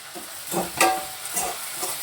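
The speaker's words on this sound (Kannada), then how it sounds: "ಎಣ್ಣೆಗೆ ಹಾಕೊಂಡು ಫ್ರೈ ಮಾಡೋದು" Chopped fenugreek leaves fry in oil in a home kitchen pan, with soft sizzling and a few scraping stirs of a spoon in irregular bursts, close and fairly quiet.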